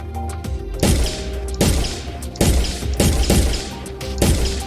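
Repeated loud gunfire from the AR4 rifle in an Unreal Engine 4 first-person template, about six sharp blasts with explosion-like booms arriving in a quick, uneven rhythm, each trailing off into a short rumble; no one speaks.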